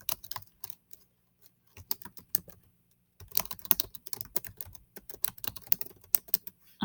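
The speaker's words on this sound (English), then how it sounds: "And then we're going to type the title" Bursts of rapid typing on a computer keyboard as a title is entered, with crisp close key clicks in uneven runs separated by short pauses, and no voices.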